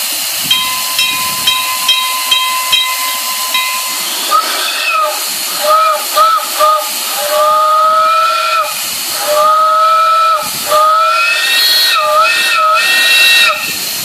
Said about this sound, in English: I'm going to release the steam for the steam cylinder.